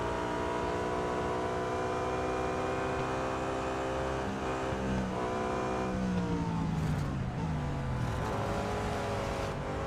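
A BMW M3 GTR racing in Real Racing 3, its engine droning steadily at high revs with pitch shifts through gear changes, continuous and close throughout without talk.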